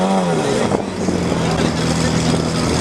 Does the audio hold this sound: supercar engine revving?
yes